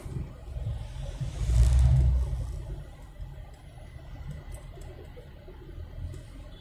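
City road traffic on the drive from Makati to Alabang: a car rumbles and revs close by and then fades, leaving a low background hum of vehicles.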